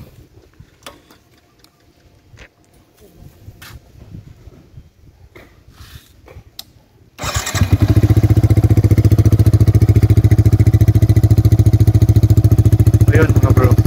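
A Yamaha MT-15 motorcycle fitted with an Akrapovic Hexatip exhaust starts after several seconds of faint ticking and shuffling, then runs at a loud, close, steady idle with a rapid pulsing beat.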